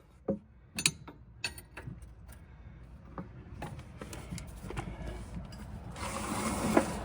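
A wrench working the bottom bolt of a Toyota Camry strut, with sharp metallic clicks and ratcheting taps early on, then a rising grinding, creaking mechanical whir building toward the end, close and fairly clear.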